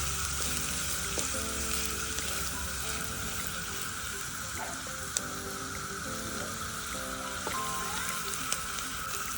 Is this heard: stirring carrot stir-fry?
yes